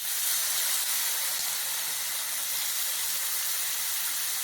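A loud, steady hiss and sizzle fills the clip as water is poured into frying masala in a hot pan for chicken kalmas, bubbling and spitting continuously up close.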